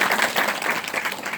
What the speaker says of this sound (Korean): 열심히 강의해주신 홍경환 선생님께 다시 한번 큰 박수 부탁드립니다